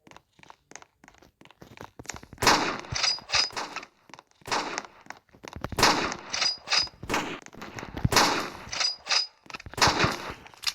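Sniper rifle gunfire in a Roblox video game: a rapid run of sharp, loud shot cracks and bursts, clustered in volleys across the stretch with brief gaps between them.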